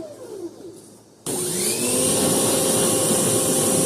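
A pressure washer sprays down a Bolens antique tractor, the nozzle kicking in suddenly with a loud, steady hiss of high-pressure water after a quieter whining motor hum.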